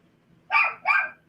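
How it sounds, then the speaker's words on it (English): A dog gives two short, close barks in a row, loud against a quiet room. "I'm sorry about the dog, guys."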